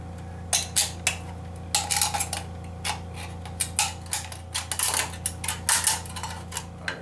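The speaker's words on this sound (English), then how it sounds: "Get my scissors again, and cut." A series of sharp metallic snips and crunches, irregular and close, as scissors cut through a thin aluminum can, over a steady mechanical hum.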